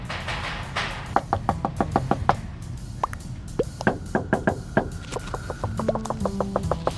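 Knuckles rap on a house door in quick bursts of sharp wooden knocks, several rapid series separated by short pauses, close and clear.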